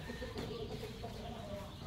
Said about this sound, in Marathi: आता सध्या ना आपल्याकडं 50 कोंबड्या आहेत